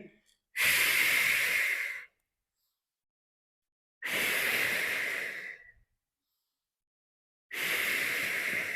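Three long, forceful exhalations through the nose or mouth during a yoga exercise, each breath lasting about one and a half seconds and separated by silence, close and loud.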